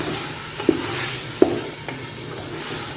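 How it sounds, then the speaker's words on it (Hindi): White beans (lobia) being stirred in a cooking pot with a spoon, giving two distinct scraping knocks against the pot over a soft sizzle, close and fairly quiet, with no talking. "लोबिया हमने डाल दिया, इसको इस तरीके से मिक्स कर लें।"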